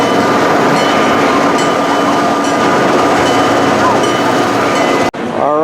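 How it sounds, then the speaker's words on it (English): An amusement park train rumbles past at close range, a steady loud roll of wheels and machinery that fills the clip before cutting off abruptly near the end, followed by a brief squeal. "The train going by."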